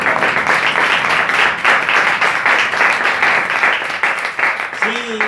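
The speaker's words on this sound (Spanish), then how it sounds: "Démosle un fuerte aplauso al Señor" Congregation applauding during a church service, loud steady clapping from many people close by, with a voice briefly heard near the end.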